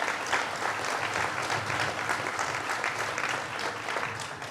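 A steady round of applause from an audience at a New York State Fair announcement honoring Assembly and Senate colleagues, with dense, sustained clapping that holds an even level throughout.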